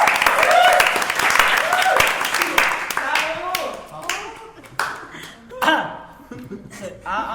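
Studio audience on an Indonesian talk show claps for a few seconds, mixed with voices and some laughter. The crowd sound thins out into chatter and scattered noises.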